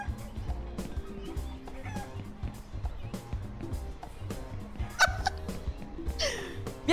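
Video game chickens clucking in Bad Guys at School, with quick squawks and clucks popping over a busy bed of game sound and music, plus a brief louder squawk near the end.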